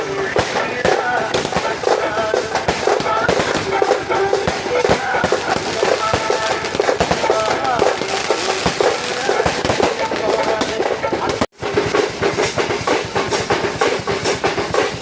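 Rapid, loud crackling bursts of firecrackers go off nonstop near a village temple, a dense string of sharp pops with a brief gap near the end before resuming.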